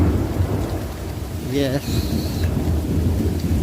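Steady heavy rain falls with low thunder rumbling throughout. Someone briefly speaks partway through.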